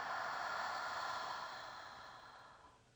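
A slow, soft exhale during yoga breathing, a faint airy whoosh that holds steady and then tapers off gradually over about three seconds, heard close with no voice over it.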